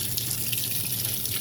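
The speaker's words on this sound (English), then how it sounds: "The water is going in." Water rushing steadily into a washing machine drum at the start of a wash cycle, a constant hissing gush, close and alone.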